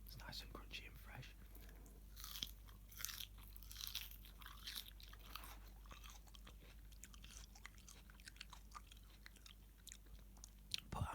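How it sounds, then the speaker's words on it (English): Close, quiet crunching of fresh lettuce from a veggie burger, irregular crisp bites and chewing over a low hum, with soft whispered speech between the chews. "I'm just chewing some of the lettuce now."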